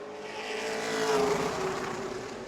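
Pro Late Model race car roaring past during qualifying at New Smyrna Speedway, a sustained loud engine drone that swells toward a peak near the middle and then eases slightly as it passes, with no voices present.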